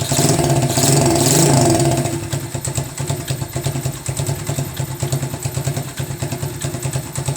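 A motorcycle engine revs up briefly, then settles into a steady, throbbing idle with a rapid pulsing beat, close and fairly loud.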